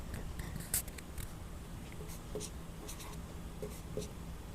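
Chalk or marker scratching on a board during a maths lesson, faint short strokes and taps in a quiet room with steady background hum.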